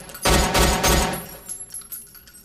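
Gunfire at a shooting range in a scene from the film Ride Along: a quick run of three loud, close shots, then a fading reverberant tail and faint clatter.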